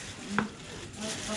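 Gorengan of potato, tofu and tempeh sizzles steadily in hot oil at a Dieng street stall, a close, continuous frying hiss with a brief clink of stirring.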